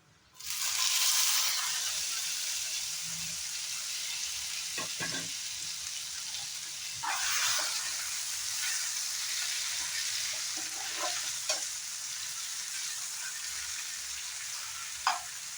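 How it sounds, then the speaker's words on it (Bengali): Sliced onion and tomato fry in mustard oil with a bay leaf, a steady bright sizzle running throughout, with a louder burst as the vegetables hit the oil and occasional stirring knocks. "পেঁয়াজ আর টমেটোটা ফ্রাই হতে হতে আরেকটা কাজ করে নেব"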